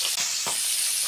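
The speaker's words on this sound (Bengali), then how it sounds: "দেখো ট্যাংরা মাছ ভাজা হচ্ছে" Tengra fish frying in a pan, a steady close hiss of hot oil sizzling throughout with a couple of soft stirring knocks.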